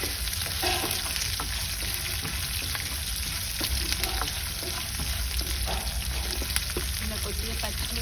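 Green chillies frying in a pan over low flame, giving a steady, dense sizzle with faint crackles and occasional light stirring scrapes throughout.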